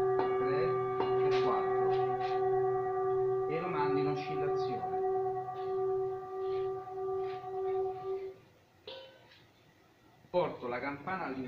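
A bell used in a hammock yoga massage rings with a long sustained metallic tone that gradually fades, under soft speech, with rustling and a brief clatter near the end.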